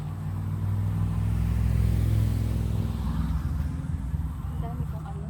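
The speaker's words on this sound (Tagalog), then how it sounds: "maingay po yung sasakyan" A noisy car passes along a rural roadside during rush hour, a low rumbling engine swelling near and then fading, with a voice speaking briefly over it.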